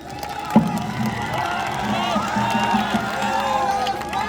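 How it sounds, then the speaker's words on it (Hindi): A large crowd at a political rally in Bihar cheers and claps, broad whooping and shouting rising over steady applause, with an amplified voice carrying through the noise. "जोरदार ताली बजाइए।"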